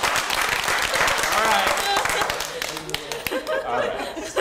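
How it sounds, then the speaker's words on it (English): Loud, dense applause from a lecture hall audience, mixed with cheering and laughter during a classroom Pictionary game, gradually thinning out toward the end. "little big round of applause for these guys"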